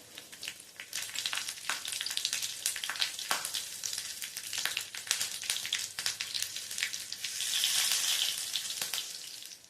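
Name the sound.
cumin seeds and green chillies sizzling in hot oil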